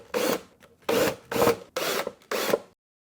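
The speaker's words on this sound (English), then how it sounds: "So what I first need to do is remove all the screws." Screws are backed out of a wooden tray frame with a power drill in five short whirring bursts, close and fairly loud with brief gaps between them and silence at the end.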